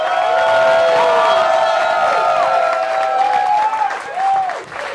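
Loud crowd noise at a comedy roast battle, cheering and whooping voices with applause underneath, sustained and close, tapering slightly toward the end.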